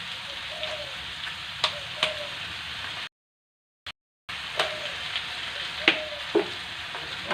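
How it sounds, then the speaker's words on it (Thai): Dory fish and holy basil sizzle in a pan while being gently stir-fried, with soft scrapes and clicks from the utensil over a steady hiss, broken by a short silent gap. "แล้วหลังจากนั้นก็ผัดนะคะผัดให้เข้ากัน ผัดเบามือนะคะ"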